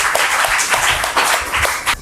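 Loud, dense audience applause for quiz contestant Pallavi at a KBC-style general knowledge quiz, with steady clapping that rises and falls for about two seconds.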